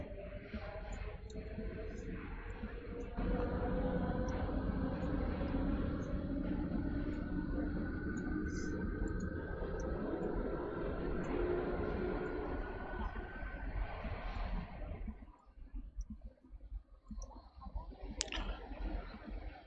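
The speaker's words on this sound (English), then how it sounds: "A subway station humming." A Syrinscape Cyberpunk subway station ambience: a steady low rumbling hum with faint clicking and rattling, like a train passing, that thins out near the end.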